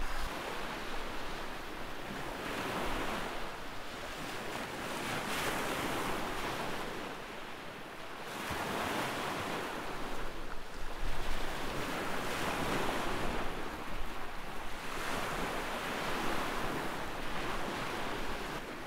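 Ocean waves washing onto a beach in Italy, a steady broadband roar rising and falling in slow surges, mixed with wind buffeting the microphone.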